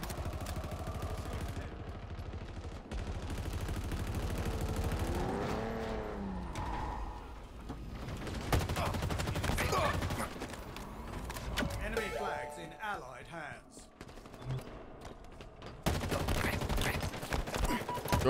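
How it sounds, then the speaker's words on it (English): Gunfire rattles through a Halo Infinite multiplayer match, with dense bursts of shots and weapon effects running throughout amid game noise and people talking over it. "I'm really just running around shooting people"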